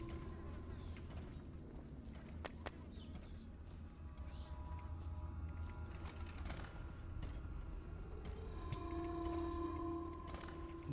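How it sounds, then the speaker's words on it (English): An in-game train arriving in Dishonored: a continuous low mechanical rumble and clatter with metallic squeals, followed by a loud sustained horn-like whistle toward the end. "The train is already coming back as far as I'm aware."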